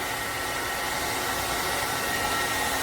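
A hot air brush hair dryer runs on its low-temperature, low-speed setting, giving a steady, close, even whoosh with a faint whine and no voices.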